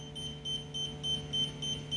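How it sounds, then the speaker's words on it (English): A high electronic alarm from a Blade Nano S3 collective-pitch RC helicopter setup beeps in quick regular pulses, about six short chirps in two seconds, steady and moderately loud. "we're just going to have to go off with the beeping sound"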